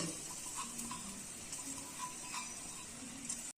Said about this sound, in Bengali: মুগের ডাল ভেজে নিচ্ছি